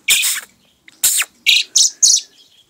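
A pet baby blackbird kept outdoors gives five loud, sharp chirps close by, spaced irregularly with short silent gaps between them.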